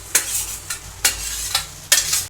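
Okra being stirred gently into soft cooked tomato pulp in a pan, with four separate scraping, squelching strokes spaced roughly half a second apart and no talking.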